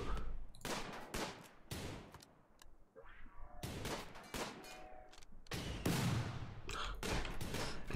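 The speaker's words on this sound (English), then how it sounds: "These turrets immediately fire." Turrets in the video game Rimworld fire volleys in sharp, loud bursts, several broadband cracks in irregular clusters separated by brief gaps, with nobody talking over them.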